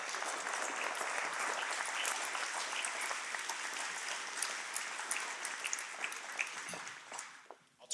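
Sustained audience applause at a business integrity awards ceremony, dense clapping filling the room steadily before tapering off at the end.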